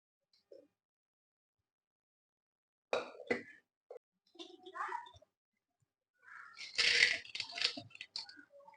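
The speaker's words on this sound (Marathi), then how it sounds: "आता ही डाळ आपल्याला कुकर मध्ये टाकून घ्यायची आहे" A dry rattling pour of small lentils into a metal pressure cooker, in a couple of bursts with faint clinks, close and moderately loud, with quiet gaps between.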